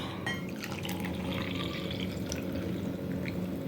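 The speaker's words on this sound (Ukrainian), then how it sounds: "І налю холодну воду." Cold tap water runs steadily into a cup or glass for brewing coffee in a small Turkish coffee pot, a soft continuous trickling and splashing heard alone, close and fairly quiet.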